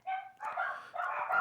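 Dogs barking indoors in a few loud, close bursts with no talk over them.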